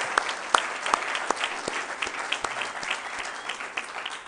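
An audience at a university conference on visual culture applauds, with individual claps standing out over a steady patter. The clapping stays moderately loud and continuous throughout.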